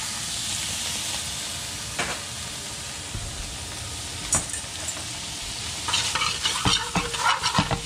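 Shallots sizzle and fry in hot beef-roasting grease in a pan, a steady crackling hiss with brief stirring scrapes and bursts of spattering that grow busier toward the end.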